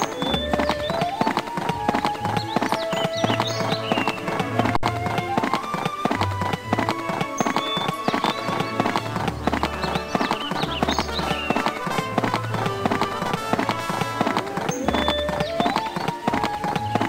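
Horse hooves gallop in a steady, rhythmic clip-clop through the Barbie Riding Club video game, running continuously under light background music.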